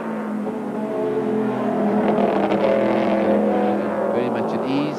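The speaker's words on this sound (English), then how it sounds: "It's a wonderful sound you hear over Kyalami," Big NASCAR-style V8 engines of modified race cars roar around the Kyalami circuit, a loud continuous growl that swells steadily under a commentator's voice.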